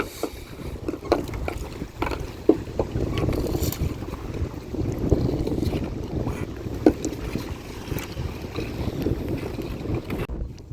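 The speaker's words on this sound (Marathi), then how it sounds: "आज बघा वारा आहे त्याच्यामुळे थोडं असा बोट पण रोलिंग करते बघा" Wind buffets a fishing boat rolling on the open sea during a deep-sea kingfish trip. Steady roaring gusts and sloshing water run throughout, with occasional knocks and creaks from the hull.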